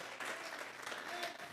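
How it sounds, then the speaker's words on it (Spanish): A church congregation applauds during a sermon, a brief burst of fairly faint, dense clapping heard from within the room. "Vamos a regalarle ofrenda de palmas al Dios de la gloria"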